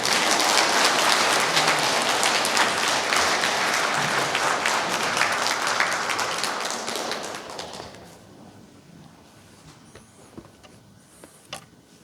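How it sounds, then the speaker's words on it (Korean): Church audience clapping warmly to welcome a priest for a Lenten lecture, dense sustained applause for about eight seconds that then fades to a few scattered claps in a quiet hall. "신부님 큰 박수로 맞이해 주시기 바랍니다"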